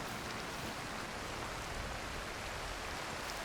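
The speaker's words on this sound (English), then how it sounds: "Ah, now it's raining." Even, continuous hiss of steady rainfall in the game Cairn, soft and unbroken throughout, with no voices.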